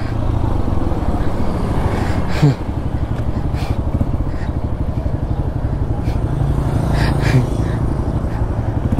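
An off-road adventure motorcycle engine runs steadily up close in Nepal, a continuous rough rumble with a brief clunk partway through, and voices faintly underneath.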